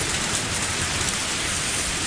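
Rain in a video game, a steady loud wash of falling rain hissing evenly throughout with no voices.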